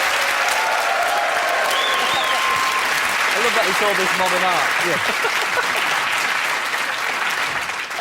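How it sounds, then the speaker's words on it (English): A studio audience at a comedy awards show gives a steady, full round of applause for the clay character Morph, with someone speaking briefly over the clapping partway through. "Also, a round of applause, please, for Morph, ladies and gentlemen."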